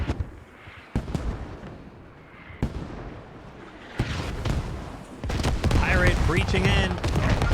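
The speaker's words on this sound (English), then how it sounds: "UV-32 rockets landing" Rockets from a UV-32 pod slam down in Squad, sharp explosive bangs arriving one at a time at first, then a louder, denser barrage of blasts and gunfire in the latter half, with a voice talking over the battle.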